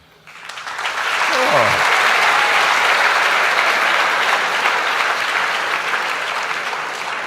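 A large audience at a Sadhguru talk breaks into sustained, loud applause that swells within a second and holds steady, with a brief voice heard just as it begins.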